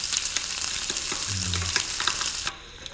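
Garlic, cumin and mustard seeds crackle and sizzle in hot oil for an Andhra-style mango dal tempering, a dense, steady frying hiss with a few clinks, cutting off sharply near the end.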